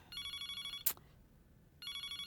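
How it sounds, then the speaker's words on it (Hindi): A telephone rings in two bursts of electronic trilling in a Hindi-dubbed film scene, separated by a short gap with a brief sharp click in between; loud and close, no talking. "फोन बज रहा है, देखो तो कौन है।"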